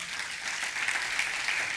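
Church congregation applauding the Lord during a sermon, a brief steady wash of many hands clapping at moderate level with no voices.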